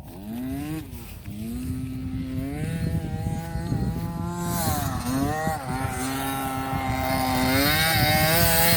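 A KTM 50cc motocross motorcycle engine revs up and down at motocross practice, its nasal two-stroke whine rising and falling in pitch over and over, close by and loud, with no talk.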